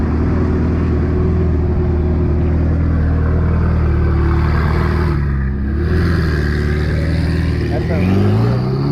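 A Ferrari 488 fitted with a Ryft exhaust revs loudly nearby, its engine note swelling and dipping through several blips and a rising final rev, with people talking faintly underneath.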